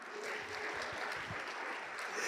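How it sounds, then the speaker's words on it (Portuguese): A church congregation applauds during a sermon, a steady wash of clapping from many hands filling the room at moderate level, continuous for a couple of seconds with no break. "Aplauda o Senhor por isso"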